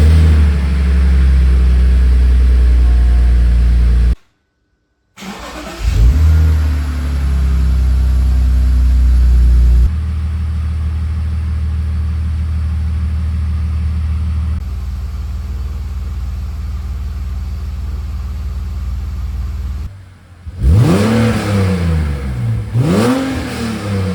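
BMW E46 330ci engine fitted with new headers and catalytic converters, loud and close, with a sustained deep drone, a brief cutout, then several rising and falling revs near the end.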